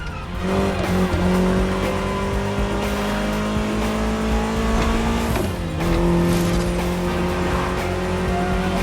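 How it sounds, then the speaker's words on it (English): An Austin Mini Cooper S in The Crew Motorfest drives under a steady, loud engine drone, its pitch shifting with a gear change midway, with tire noise and no talk. "we got you an Austin Mini Cooper S, maneuverable and lovely"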